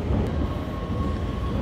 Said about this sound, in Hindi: ऊपर एक ट्राम आ गया।